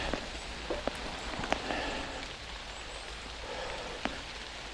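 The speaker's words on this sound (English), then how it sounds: "That's out of the rain." Steady rain falls during a wet bike ride, a dense hiss of drops with scattered sharper taps from close by, running throughout with no talk.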